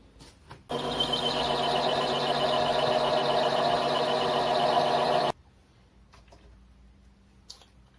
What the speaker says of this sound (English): It is roughing with brazed carbide tool.